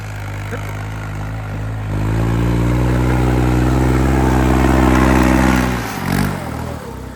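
A heavy modified 3630 tractor engine idles with a deep, throbbing rumble, then revs up and holds loud for a few seconds before dropping back.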